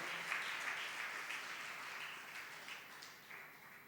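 Congregation at St Mary's Parish applauding a welcome for a priest at his first Mass, a soft, steady wash of clapping that sounds distant in a large church, with a few faint voices.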